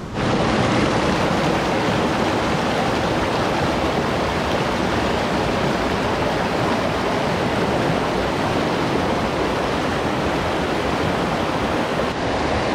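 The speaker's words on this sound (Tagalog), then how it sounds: "So nandoon yung falls banda." Dunsulan Falls in Bataan roars as a loud, continuous broadband rush of falling water, steady and close throughout without pause.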